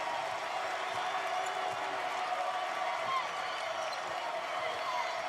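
A basketball crowd at Chaifetz Arena keeps up a steady, distant roar of cheering throughout, broad and unbroken with no standout claps or shouts.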